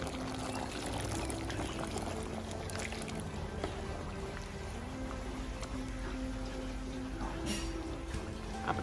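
Boiled chicken stock poured into a simmering green chicken curry in a home kitchen, a steady continuous splashing pour heard close up and throughout.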